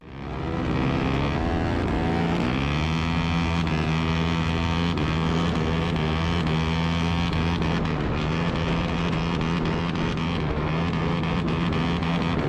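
Two motocross bikes race side by side, heard from a chariot trailing behind them: a loud, sustained high-revving engine drone that barely wavers and carries on unbroken throughout, with no talk over it.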